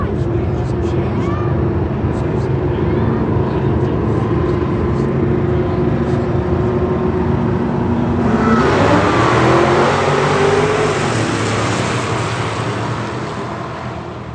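A Pro Stock race car engine roars steadily at a race track, loud and sustained, the pitch shifting and swelling partway through, with a commentator talking over it.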